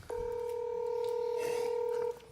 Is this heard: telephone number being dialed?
yes